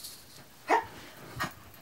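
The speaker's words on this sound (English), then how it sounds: "Two puppies." Two short, sharp yips from a small puppy, spaced under a second apart, at moderate distance with quiet room noise between.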